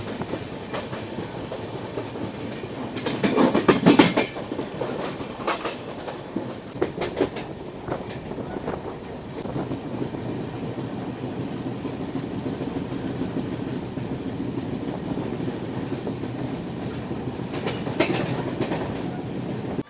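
A passenger train runs on rails with a steady rumble and rhythmic wheel clatter, swelling louder in brief bursts near the start and end, with no talk.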